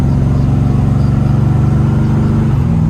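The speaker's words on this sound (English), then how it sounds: "Got a nice little exhaust rumble to her." A 1973 Chevrolet Corvette Stingray on the move gives off a deep, steady exhaust rumble, loud and close, holding an even throbbing tone throughout with no talking.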